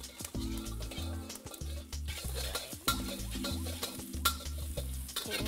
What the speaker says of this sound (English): right now my wok is really hot. So let's start with some garlic.